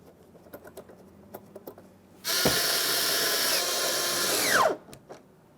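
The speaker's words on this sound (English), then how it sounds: "We've got 2 7mm mounting bolts. You can go ahead and start those in and snug those up as well." A power driver snugs two 7mm mounting bolts on the interior door grab handle of a 2015-2020 Ford F-150, giving one loud whirring burst of about two and a half seconds that drops in pitch as it stops, with faint handling clicks around it.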